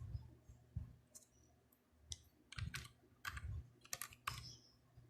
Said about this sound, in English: what I'm going to do, just type Google Adsense